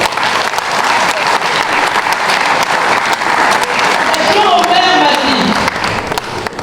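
An audience at a Cameroonian gastronomy event bursts into dense, sustained applause that stays loud throughout, with a faint voice rising near the end.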